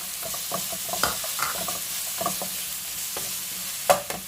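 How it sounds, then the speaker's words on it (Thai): Shallots stir-fried in a pan with garlic and ginger, giving a steady, close sizzle broken by scraping stirs and a few sharp clinks of the utensil against the pan. "เราจะผัดหอมให้สลดสลดหน่อยเนาะ"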